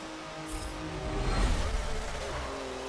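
A car engine in Forza 7 revs up, rising to a rough peak and then easing off, with a broad, gritty roar that fills the short stretch.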